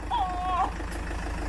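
The engine of a salvage Land Rover Freelander 2 idles as a steady low rumble, with a brief voice over it near the start.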